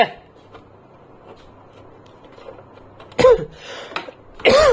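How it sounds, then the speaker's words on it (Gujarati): Two sharp coughs from a nearby person after a stretch of quiet background noise, the second a little longer than the first. "હવે ઉધરસ થઈ ગઈ મને"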